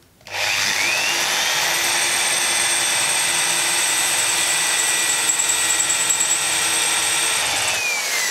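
A power drill bores steadily into wall tile through a strip of masking tape while fitting a rain shower, giving a loud, continuous whining grind that runs for about eight seconds before stopping abruptly.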